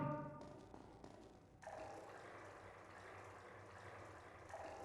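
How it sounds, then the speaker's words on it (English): Running water in the video game Prince of Persia: The Sands of Time, a steady broadband wash that swells louder after a quieter opening and flows on continuously with no talk. "Do you hear the water? It makes a sound here."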